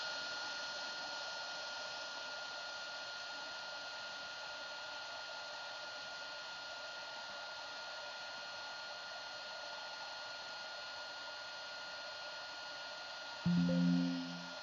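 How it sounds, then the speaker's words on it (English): A craft heat tool blows steadily over a heat-embossed project, a constant close airy whir lasting throughout with no talking, followed by a brief low thump near the end. "I'm just going to take the opportunity to run my heat tool over everything"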